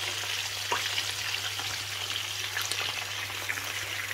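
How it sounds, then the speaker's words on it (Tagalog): Sardines deep frying in hot oil, a steady dense crackling sizzle with scattered sharper pops, close and continuous with a low background hum and no talking. "I-deep fry natin ito."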